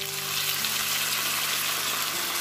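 Seasoned food frying in a pan for a home-cooked lunch, a steady loud broadband sizzle that continues unbroken with no talking.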